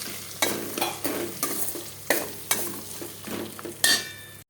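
A tempering sizzles in a pot as it fries for khichuri, with repeated scraping stirs marking an uneven rhythm over a steady close-up hiss.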